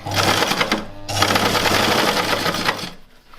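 A sewing machine stitches thick leather for a custom gear stick shift boot, running loud and close in a steady rapid whir. It pauses briefly once and stops near the end, with no voices.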